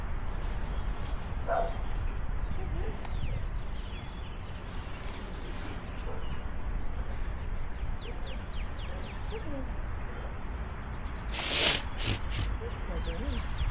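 A South African Mastiff named Bane barks and whimpers during protection training, with faint, sporadic yelps and whines under a constant noisy outdoor background, birds chirping and people talking.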